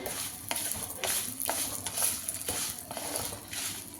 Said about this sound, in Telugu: అవిసె గింజలు వేయించాను కాబట్టి లైట్గా వేయించుకుంటే సరిపోతుంది.